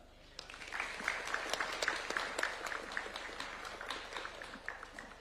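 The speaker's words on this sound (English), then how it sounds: "Another round of applause for Mr. Kuria Mushiri." Moderately distant applause from an audience at a reception for the UEFA Champions League trophy in Kenya, with individual claps audible, rising after a quiet start and tapering slowly.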